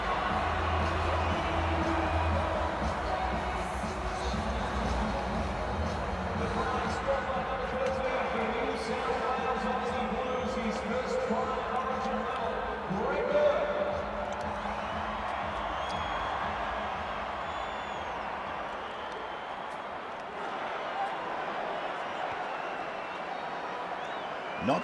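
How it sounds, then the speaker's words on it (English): At a 2010 State of Origin rugby league match, a partisan stadium crowd rises and cheers after a try, a broad roar held steady throughout beneath continuous commentary. "And the partisan crowd rises."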